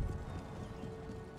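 Horse artillery hoofbeats in the Empire: Total War video game, a steady dense clatter of many hooves rumbling continuously under low battlefield noise with no talk.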